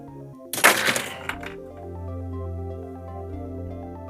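A LEGO One Piece Battle at Arlong Park building set (75638) has its play feature pushed down and collapses, giving a sudden burst of clattering plastic bricks that quickly fades, with a sustained music bed underneath.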